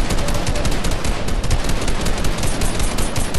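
Rapid gunfire rattles without a break in a multiplayer shooter game, loud and close bursts packed tightly together for several seconds, with no speech over it.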